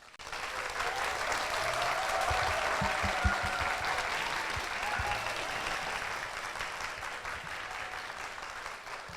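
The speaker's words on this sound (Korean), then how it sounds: "큰 박수로 맞이해 주십시오." A studio audience at a Korean book talk applauds steadily for several seconds, a dense wash of clapping that holds strong and then slowly tapers off.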